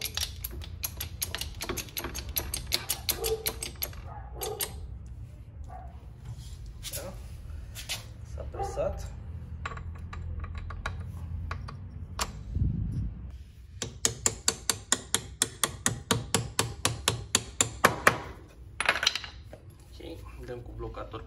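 A bearing being pressed into a Can-Am wheel hub, with a low mechanical rumble and a close run of sharp, evenly spaced metallic clicks, set among scattered knocks and tool handling.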